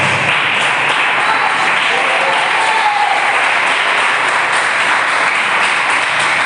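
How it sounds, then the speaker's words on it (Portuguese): A church congregation claps in praise, a loud, continuous wash of many hands clapping that holds steady without pause, with faint voices underneath. "pode louvar o Senhor com as palmas"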